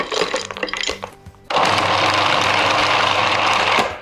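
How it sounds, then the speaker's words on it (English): A blender briefly pulses vegan pumpkin recipe ingredients with frozen chopped coconut oil, giving a loud, steady, near whir after a short stuttering start. "Just going to quickly, briefly pulse this so it just combines."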